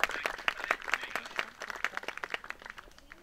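Scattered clapping from a small audience at a rescued-bird show, a quick patter of individual hand claps with no voices, tapering off over a few seconds.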